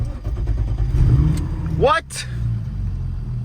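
A muffler-deleted, turbocharged BMW E30 with an M50 engine cranks briefly and fires up, the start a sharp rising whine into a loud, raspy idle heard close; a man exclaims as it catches.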